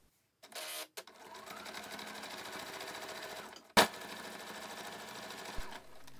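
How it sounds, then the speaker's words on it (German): A sewing machine stitches fabric onto interfacing about 1 cm from the edge while making a small zippered bag, a steady, close mechanical whir in two runs with a brief pause and a click between. "Also 1 cm von der Kante nähst du nun einmal den Stoff auf das Vlies."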